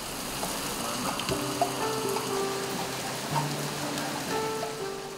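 Steady patter of rain dripping onto cement, a dense hiss of drops with a few louder splashes, no voices.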